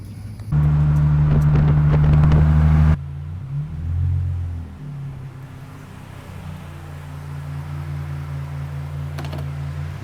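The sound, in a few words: motorized kart driving home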